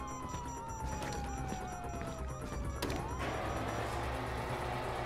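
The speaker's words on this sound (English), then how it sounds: "Hear that? Sirens!" Police sirens wail in Grand Theft Auto V gameplay, a falling electronic tone sweeping repeatedly over dense game noise and rumble, with a sharp crash near the middle and a steady siren drone continuing after.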